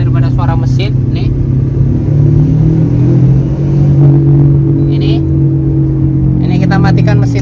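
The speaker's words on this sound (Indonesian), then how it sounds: "ada suara gemuruh saat kecepatan 20, 40, 60 dan dia makin di atas 40 km dan makin nyaring nih kedengaran nih" A Suzuki Ertiga driving above 40 km/h gives off a steady low rumble that stays loud and continuous under the engine drone, with someone speaking over it.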